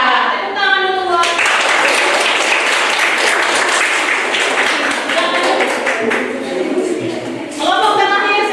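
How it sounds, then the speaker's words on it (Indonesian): A classroom audience of students breaks into loud, sustained applause lasting several seconds, dense clapping with a voice briefly heard at the start and end. "Tepuk tangan dulu buat."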